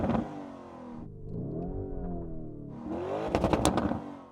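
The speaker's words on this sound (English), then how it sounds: "Go on, Yanni, let's hear the Lambo." A Lamborghini V8 engine is revved twice, with a first blip, then a sustained climbing roar and a sharper, crackling second rev, loud and close with no talking.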